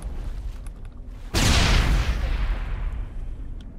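A grenade blast in the Mass Effect video game hits as one sudden, loud, broad explosion. Its rumbling tail fades slowly over the next couple of seconds, with no voices.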